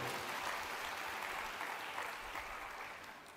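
A church congregation claps together during a Telugu sermon, a dense sustained burst of applause that stays loud for a few seconds before slowly thinning out.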